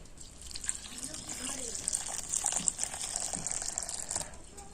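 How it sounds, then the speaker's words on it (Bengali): Water splashing and trickling as a banana flower is soaked with water and turmeric in a kitchen, soft and close, with faint voice-like sounds behind. "এবারে এই মোচাটা একটু জল দিয়ে আর হলুদ দিয়ে ভিজিয়ে রাখবো"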